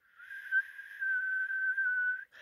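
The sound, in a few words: voice imitating a whistling noise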